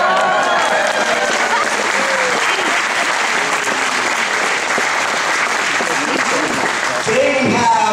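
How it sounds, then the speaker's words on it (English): Sustained audience applause fills the hall at a gymnastics championship, steady dense clapping throughout with crowd murmur and some voices mixed in. "That's where you're supposed to clap."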